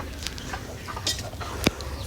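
Farm chickens cluck faintly in a short, quiet stretch, with a few brief sharper calls standing out near the middle and end against low background noise; no one speaks.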